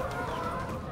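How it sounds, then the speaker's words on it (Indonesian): Laying hens cluck in a coop of around 500 birds, a dense close chorus of overlapping clucks and murmurs filling the brief moment. "di kandang ini ada sekitar 500-an ekor ayam petelur"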